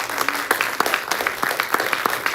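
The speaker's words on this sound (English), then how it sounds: "Can we give all of our teams a round of applause?" Audience at a Shark Tank-style pitch event at the Artcraft theater applauding the competing teams, brisk moderately dense clapping with irregular sharp peaks, close and steady without talk.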